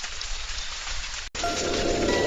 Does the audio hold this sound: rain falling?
yes